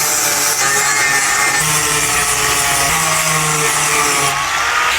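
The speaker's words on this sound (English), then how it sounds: "Let's get out the grinder next." An angle grinder grinds down welds on custom speaker mounts for a 1962 C10 pickup truck, giving a loud, steady, continuous whine with slight shifts in pitch as it bears on the metal, close up and without talking.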